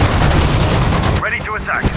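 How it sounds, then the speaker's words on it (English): Gun firing in the World War II strategy game Sudden Strike 4, loud and dense blasts filling the clip, followed by short radio-style unit voice lines at the end. "Fire the gun"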